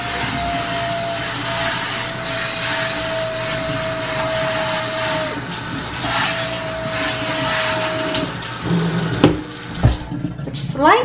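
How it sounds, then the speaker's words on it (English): Water running from a tap into a sink for rinsing while household cleaning, a steady close hiss with a faint tonal hum, then splashes and clatter near the end. "according to Sophia, I need to rinse it because I want to be able to breathe, obviously."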